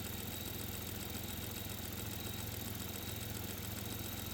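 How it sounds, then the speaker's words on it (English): A Buick engine idles with an exhaust leak at the EGR tube, giving a steady, continuous low rumble with a faint rhythmic ticking, close and even throughout. "we do have an exhaust leak at the EGR2"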